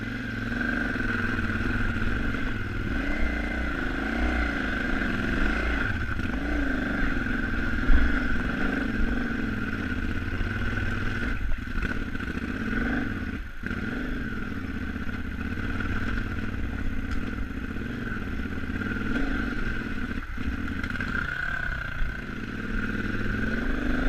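A KTM 950 motorcycle engine runs rough at low RPM on a ride at Taylor Park, Colorado, a steady close uneven drone with clattering and occasional sputters, with no voices heard.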